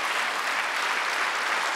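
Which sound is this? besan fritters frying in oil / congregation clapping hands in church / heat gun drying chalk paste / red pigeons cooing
congregation clapping hands in church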